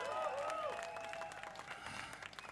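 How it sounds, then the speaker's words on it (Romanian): Applause at a live blues festival concert, clapping from the audience under a sustained tonal sound, probably a lingering note or feedback, with some voice in the background. "Hai să-i aplaudăm!"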